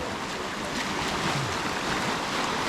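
Waves wash steadily onto Hanagae beach on Muuido, a sandy shore mixed with tidal mudflat, as a continuous rushing surf with some wind, close and even throughout with no voices.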